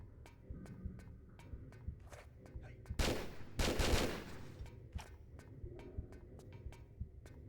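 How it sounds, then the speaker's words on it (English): Harpoon gun fire in Tomb Raider 3, a loud burst of shots with a sharp swell in the middle, over a steady run of game sounds. "harpoon gun"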